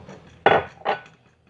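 A utensil knocks twice against a mug while a cinnamon apple cocoa-style drink is stirred, two close, bright clinks about half a second apart in a quiet room.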